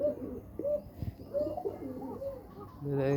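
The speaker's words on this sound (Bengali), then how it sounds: "সরি কবুতরগুলো এখানে ডাকতেছে কবির মধ্যে ডাক কি শুনতে পারতেছেন আপনারা" Pigeons coo nearby in short, repeated throaty phrases with brief gaps, a louder burst of calls at the end, and a voice speaking faintly in between.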